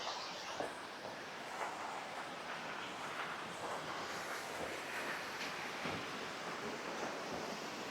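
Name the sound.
waterfall at Glenashdale Falls, Isle of Arran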